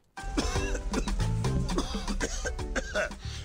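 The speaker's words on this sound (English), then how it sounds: "this cough is serious" A person coughs repeatedly in a harsh, rattling fit, close and continuous for a few seconds.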